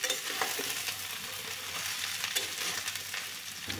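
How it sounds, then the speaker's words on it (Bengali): Potato, flat beans and shredded cabbage stirred in a frying pan, a steady close sizzle with scraping spatula strokes running throughout. "এবার সব কিছু একত্রে খুব ভালো করে নেড়ে চেড়ে দিচ্ছি।"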